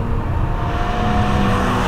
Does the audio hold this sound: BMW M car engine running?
yes